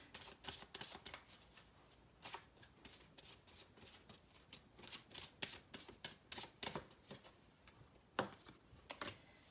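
A deck of oracle cards is shuffled by hand, producing quick rapid riffles and flicks in an uneven clattering rhythm, close and fairly soft, with no talking.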